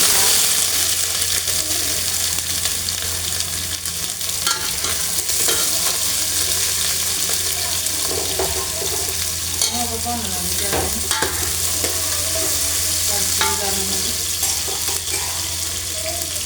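Chopped pumpkin fries in hot oil, a dense, loud, unbroken sizzle with scraping stirs and occasional clinks throughout.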